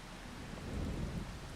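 Rain falling with low rumbling thunder in the Farming Simulator 25 farming game, a steady wash of rain under a deep roll of thunder that swells midway, with no talk.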